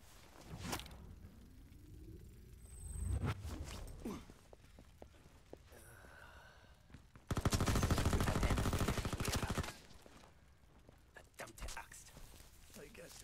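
Video game gunfire rattles in a long rapid burst of automatic shots, with scattered single shots and footsteps around it and players talking over the action.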